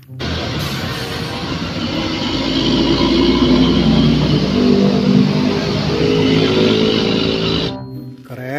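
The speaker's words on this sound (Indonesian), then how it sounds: "Truk tangki Pertamina." Toy Pertamina fuel tanker truck engine sound, a steady rumbling motor drone with a revving quality, close and even in level, heard alone until it cuts off near the end.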